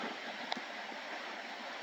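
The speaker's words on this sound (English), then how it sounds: "Small little waterfall there" A small waterfall on Indian Creek in Hanging Rock State Park rushes steadily, a constant bright hiss of falling water with no voices.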